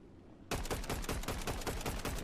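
Rapid gunfire in the video game Fortnite bursts in after a quiet half second, a loud, continuous volley of shots that keeps going without pause to the end.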